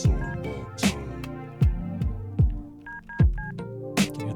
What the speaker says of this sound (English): Dialing of a phone.